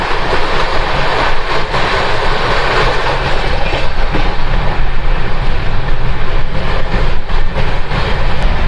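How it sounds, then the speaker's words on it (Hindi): The Gitanjali Express passenger train rolls along the rails from on board, a loud continuous rumble with rhythmic clickety-clack of wheels over joints as it slows toward a stop. "ट्रेन को रोका जा रहा है।"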